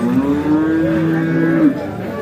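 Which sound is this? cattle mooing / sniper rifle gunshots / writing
cattle mooing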